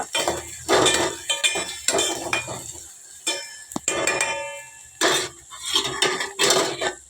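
Onions cook in a pan for an okra tamarind stew while a metal utensil stirs them, producing close, repeated clattering scrapes and clinks in uneven bursts separated by short pauses.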